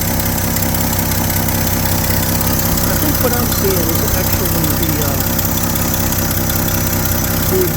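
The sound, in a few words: 1972 Chevy C10 pickup truck engine idling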